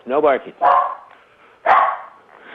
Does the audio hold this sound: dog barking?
yes